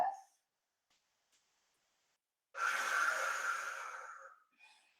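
A single long exhale during a mat Pilates stretch, a soft airy breath lasting about two seconds after near silence, with a faint snort-like breath at the start and another brief breath at the end.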